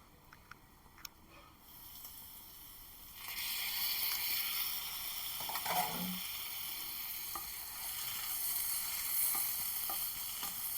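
Peas and cauliflower frying in a pan, a steady broad sizzle that swells louder after a few seconds and continues evenly, with occasional faint stirring bumps.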